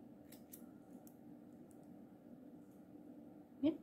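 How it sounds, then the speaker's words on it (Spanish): Scissors give a single crisp snip near the end as they cut a strand of crochet yarn, close by and quiet, with a low steady room hum underneath. "rematar una cadenita y cortamos hebra"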